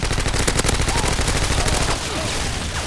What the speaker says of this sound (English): I'm just wasting bullets.